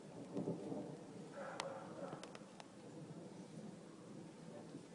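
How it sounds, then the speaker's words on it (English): Thunder rolls low and steady through a thunderstorm with rain, a long distant rumble that swells briefly, faint and continuous throughout. "And thunder rolls."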